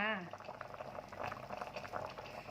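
A pot of Thai tom yum soup with fresh mackerel, phak khayaeng herb and tomato bubbles at a quiet, continuous boil. Soft gurgling is heard close by, and a voice is briefly heard at the start.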